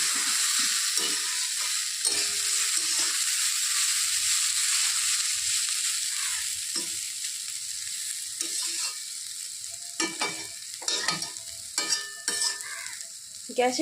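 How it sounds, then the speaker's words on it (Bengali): Taro pieces fry in a pan on low gas, the lid lifted, with a steady close sizzle broken by spoon scrapes and stirring knocks that grow sharper and more frequent toward the end. "ঢাকাটা খুলে নিয়েছি একটু নেড়ে চেড়ে দেবো"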